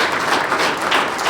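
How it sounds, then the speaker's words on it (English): A round of applause fills the hall at a high school athletics Hall of Fame induction ceremony, a dense, even patter of many hands clapping at once, loud and close. "I'd like to give them a round of applause."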